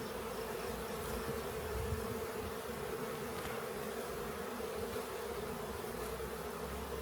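Honey bees hum steadily around an open hive during an apiary inspection, a dense, continuous buzz close by with no talking.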